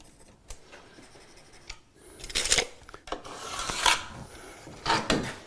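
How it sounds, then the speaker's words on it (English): A pencil traces a cut line on wooden kitchen trim, giving several short scratchy rubbing strokes at close range, with brief pauses between them and no talking. "So I'm going to trace my line."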